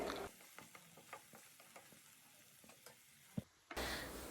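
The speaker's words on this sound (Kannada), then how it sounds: "ಈರುಳ್ಳಿ ಕಲರ್ ಚೇಂಜ್ ಆಗೋವರೆಗೂ ಫ್ರೈ ಮಾಡ್ಕೊಳ್ಳೋಣ." Sliced onions frying in a pan for Kannada-style raw banana palya, a soft sizzle under a series of spoon scrapes and stirring knocks, ending in a louder burst of frying hiss.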